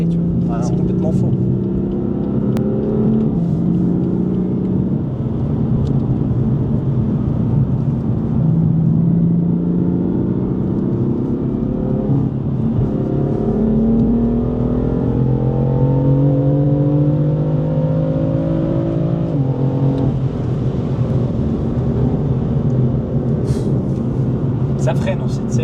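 A BMW M4 F82 accelerating on the road, a continuous engine drone with rising and falling pitch sweeps as it pulls through gears, heard from inside under steady conversation.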